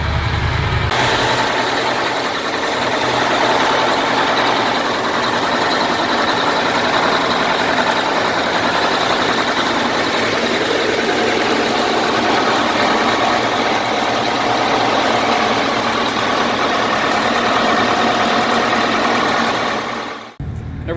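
The engines of a 65-foot yacht idle with a steady, loud drone, constant low rumble and broad mechanical hiss, no talking, cutting off abruptly at the end.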